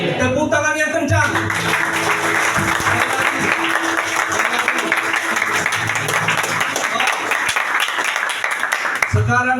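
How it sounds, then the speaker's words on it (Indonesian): A church youth audience at a Christmas service breaks into loud, sustained applause, dense clapping with some cheering that holds steady for several seconds before fading, with music and voices briefly at either end. "Tepuk tangan yang kencang."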